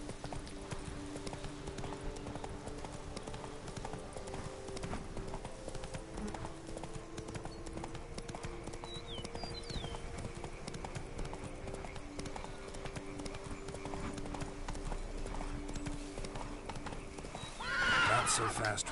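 A horse gallops with steady hoofbeats and whinnies in the Witcher 3 video game, with a constant background layer throughout and a louder burst near the end; someone talks over it.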